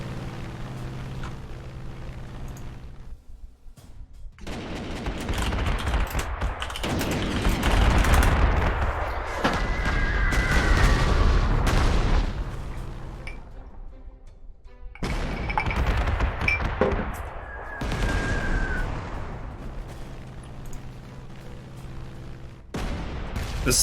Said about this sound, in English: That's a lot of rocket artillery.